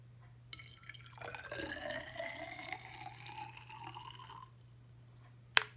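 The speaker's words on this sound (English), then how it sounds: "And then we're going to use 50 mils of water." Water being poured into a laboratory beaker, 50 mL measured for a kiwi DNA extraction; a steady close trickling pour lasts a few seconds, with a short sharp clink near the end and a low background hum.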